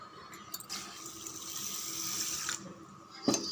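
Water runs steadily into a container of rice for soaking for a few seconds, then stops, followed by a brief clatter.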